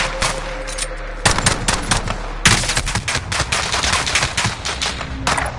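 Heavy automatic fire in a first-person shooter game, repeated bursts of loud, close machine-gun shots with brief pauses between volleys, no speech over it.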